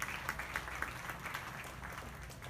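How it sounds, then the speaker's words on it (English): Audience applause at a youth beef market show, a steady wash of many hands clapping that fills the whole moment at moderate volume, with no voices standing out. "Let's give all them associated with the show a big round of applause."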